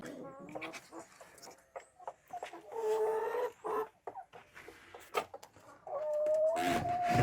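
A rooster clucks and calls among farmyard sounds, ending with a louder sustained crow, while a person talks intermittently nearby.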